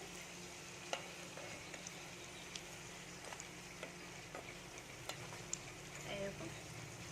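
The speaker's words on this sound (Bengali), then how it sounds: "এগুলো কিন্তু খুব একটু লাল করে ভাজতে হবে" Potato and flour snacks fry in hot oil with a soft, steady sizzle, broken by occasional light clicks and taps as the pieces are turned one by one.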